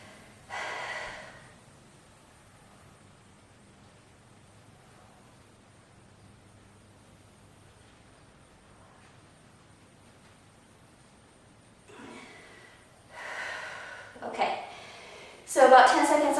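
Heavy breathing during a chest workout: one sharp breath, a long near-silent stretch, then a run of increasingly loud, forceful breaths and snorts close to the microphone.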